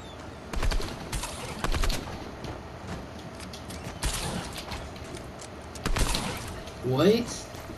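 Gunfire in a shooter video game rattles out in several quick bursts of rapid shots, spaced a second or two apart, moderately loud, with a player's voice talking between them.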